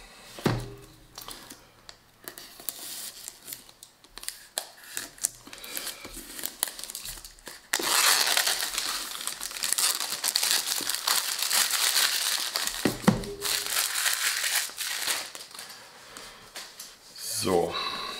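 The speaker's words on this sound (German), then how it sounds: "Dann fangen wir mal mit dem Auspacken an." Packaging of a Comica VDLive 10 USB microphone being unpacked, with sparse taps and rustles at first, then a long stretch of loud, close crinkling and crushing of plastic and cardboard, while someone speaks German at times.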